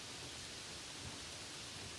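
Gentle rain falls steadily as a soft, even hiss with no distinct drops standing out, close and constant, with no voices.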